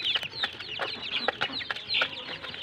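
A hen clucks among her many chicks, with repeated high peeping and short clucks close by in a steady, busy stream and no talk.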